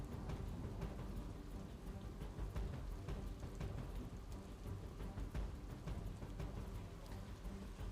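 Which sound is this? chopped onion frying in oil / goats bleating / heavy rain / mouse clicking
heavy rain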